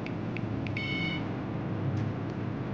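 An Arduino UNO buzzer gives a quick series of short, faint electronic beeps over a steady background hiss while a digital dice roll plays out.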